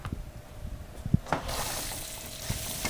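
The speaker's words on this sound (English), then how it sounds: "Then in the pan on medium heat, where you browned your pot roast, put the onions in there." Onions hit a hot pan on medium heat where a pot roast was just browned, breaking into a loud, steady sizzle halfway through after a few clanks and scrapes, then holding a continuous hiss.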